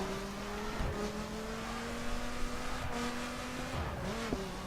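A stock 2013 SRT Viper GTS drifts in the racing game The Crew, its engine droning steadily with shifting pitch, brief revs and tire noise under a constant roar.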